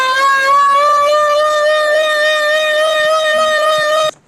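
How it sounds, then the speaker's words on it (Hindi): An old civil warning siren in Punjab wails with a steady, unwavering harmonic tone, loud and continuous for about four seconds before cutting out abruptly, with no voices over it. "ये चेक करें, ये सायरन चल रहा है आजकल।"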